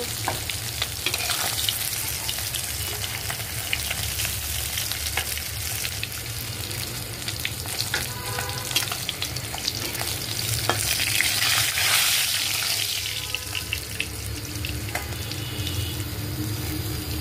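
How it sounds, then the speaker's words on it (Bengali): Koi fish frying in hot oil in a pan on a gas stove, a loud, close, unbroken crackle and sizzle with occasional spatters and stirring scrapes, no one speaking. "আমার মাছ প্রায় ভাজা শেষ। এখন আমি তুলে নিব।"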